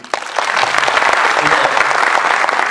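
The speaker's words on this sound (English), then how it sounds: "Round of applause for Pradeep." Loud round of applause at a youth conclave gathering, close dense clapping from the audience that starts suddenly and stays steady, with faint voices underneath.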